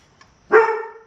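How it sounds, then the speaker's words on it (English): Cooper, a guard dog in a workshop where someone is working a part in a vise, lets out a single sharp, loud bark close by that trails off briefly. No one speaks. "It's okay, guard dog."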